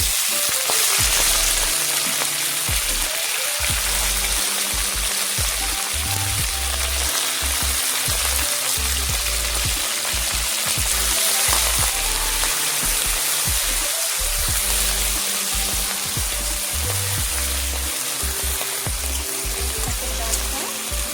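Oil sizzles and crackles steadily as Malabar spinach fries with shrimp and potatoes in a pan, a dense, continuous frying hiss with faint stirring knocks and no voices.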